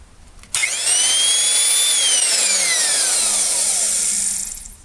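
A restored Skilsaw Model 77 worm-drive circular saw switches on with a sudden whine, spins up to a steady loud high-pitched drone, then winds down as the motor coasts, heard close and alone.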